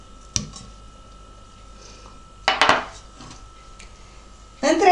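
Butter dropped into a saucepan while making homemade cheese: a few sharp metallic clinks and knocks of the pot and utensil, with a clattering burst at the end, close and moderately loud.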